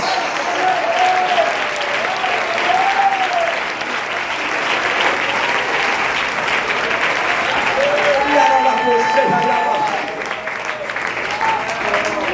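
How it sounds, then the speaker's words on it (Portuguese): A church congregation claps hands in a long, steady, loud roll of applause, with voices calling out over it. "Somebody clap your hands."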